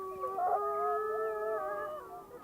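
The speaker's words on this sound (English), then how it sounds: "White Wolf and 712 answer." Several Yellowstone wolves howl together in answer, overlapping tones weaving and shifting in pitch at moderate distance, a sustained chorus that slowly fades.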